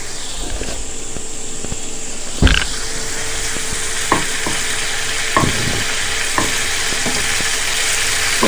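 Prawns sizzle steadily in hot oil in a pan while a spatula scrapes and stirs them, a few sharper clatters standing out over the continuous frying hiss.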